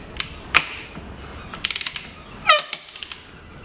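Torque wrench clicking in short ratcheting bursts while tightening a Bafang BBS01B e-bike mid-drive motor, light metallic ticks in small clusters, close and fairly quiet.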